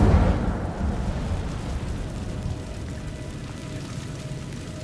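An Incendio fire spell cast in a Harry Potter video game, a sudden low whooshing burst that rumbles and fades into a sustained crackling roar, loud and close.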